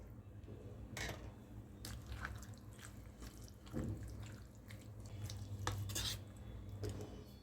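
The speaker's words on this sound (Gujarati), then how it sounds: "તો આપણે બધી જ વસ્તુને એકદમ સારી રીતે મિક્સ કરી દીધી છે" A batter of moraiyo and sabudana is mixed in a bowl, with soft wet stirring and a few sharp clinks of spoon on the bowl over a constant low background hum.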